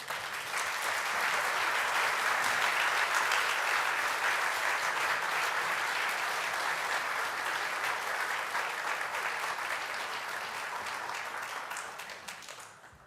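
A lecture hall audience applauds a professor's talk on Vatican II, dense sustained clapping that holds steady for about ten seconds before tapering off.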